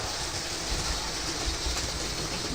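A passing train, a DMU or overhead electric, rumbles as a steady, loud broadband roar throughout, with faint rhythmic clatter and no voices.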